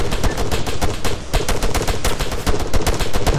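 Rapid gunfire in the military shooter ARMA 3, a loud, close, dense stream of sharp shots with no pause.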